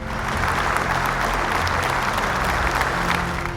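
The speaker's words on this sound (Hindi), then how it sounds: "जोरदार तालियों से स्वागत कीजिए" Dense, steady applause from an audience at a family Bible quiz semi-final, welcoming a competing couple onto the stage, sustained at full strength throughout with no voices over it.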